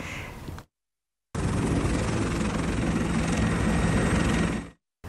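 A helicopter flies steadily at close range with a loud, continuous rotor and engine roar, on the way to Jayapura airport in Papua, framed by brief silent gaps at the start and end.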